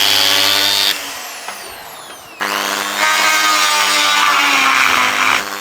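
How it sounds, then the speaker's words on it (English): A power tool cutter grinds into a turbo boost pipe, its loud, steady high-pitched whine dipping briefly as the cutter eases off, then surging back hard and continuous right up close. "Starting to block the cutter up because I've got no wax on the end of it."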